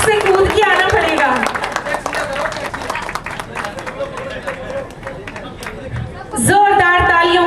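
Clapping from the audience at a prize distribution ceremony for a singing contest, rapid scattered claps mixed with crowd chatter and someone speaking over them, then a musical sting near the end.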